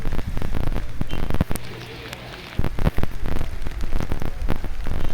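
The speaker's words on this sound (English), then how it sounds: "this is rain, rain, rain all over the place" Heavy rain pours outdoors in front of a church in Medjugorje, a dense steady hiss with brief gaps, close and loud, while a person talks over it.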